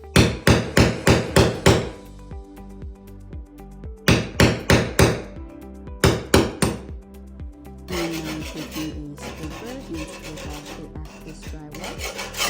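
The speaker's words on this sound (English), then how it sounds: "I'm going to take this punch and a hammer and hammer this all the way through" Repeated sharp hammer blows drive a punch through a wall in quick bursts of five or six strikes, close and loud, followed by scraping and rattling.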